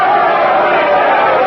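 A large crowd roars and cheers for the Queen, a loud, sustained wall of voices filling the whole moment without a break.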